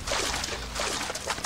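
A waterfall in the game Elex pours in a continuous, fairly loud rush of splashing water, broadband and unbroken with slight surges.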